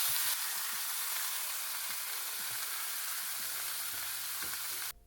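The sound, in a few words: chuck roast searing in olive oil in cast iron skillet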